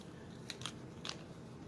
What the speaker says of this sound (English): if you pull the tape back on itself, it comes up much easier